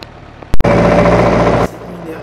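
A 1952 Minerva 4x4 with a Land Rover 2-litre four-cylinder engine drives along. A sharp knock comes first, then the engine's steady, loud drone continues for about a second before dropping back to a quieter idle-like hum.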